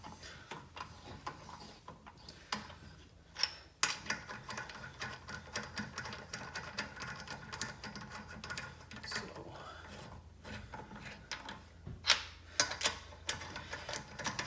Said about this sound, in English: as long as you're torquing it down at that star pattern